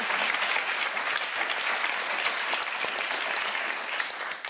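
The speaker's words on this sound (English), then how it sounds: "A warm round of applause, please." Warm audience applause at a cultural panel discussion, dense and sustained clapping from a large crowd, loud and continuous throughout with no speech over it.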